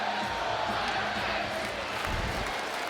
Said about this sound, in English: he's still got the crowd going